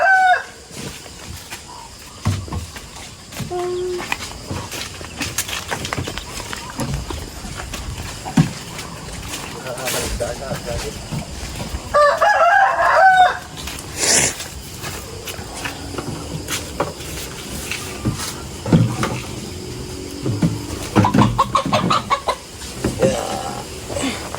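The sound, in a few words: chicken, rooster crowing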